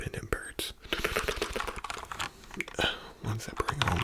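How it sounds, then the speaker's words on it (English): Rapid ASMR computer keyboard typing, close and crisp with irregular clicking keystrokes and soft crinkly textures, accompanied by faint whispering. "A keyboard."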